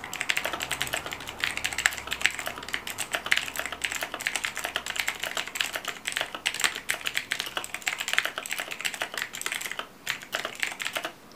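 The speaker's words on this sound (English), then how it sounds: "the last keyboard we have is the Razer BlackWidow Ultimate Classic keyboard with the Razer" A Razer BlackWidow Ultimate Classic keyboard with clicky Razer Green switches is typed on continuously for about eleven seconds, a dense, close run of sharp key clicks without any talk.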